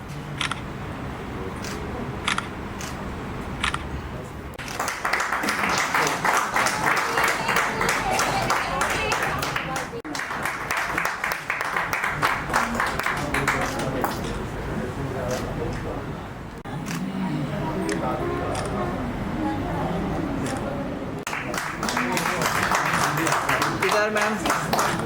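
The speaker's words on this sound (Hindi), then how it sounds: "इनके लिए एक जोरदार ताली" Audience applause at the 12th foundation day of Divya Rashmi magazine, an honouring ceremony for children and literary figures: bursts of clapping rise and fade several times while a host speaks into a microphone between them.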